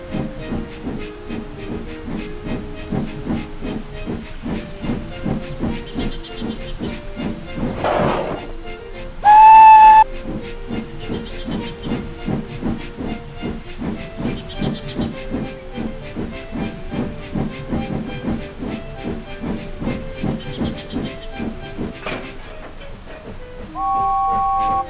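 Two steam engines shunting trucks, with continuous rhythmic chuffing and hissing steam, a sharp burst of steam, and two loud whistle blasts, one midway and one near the end.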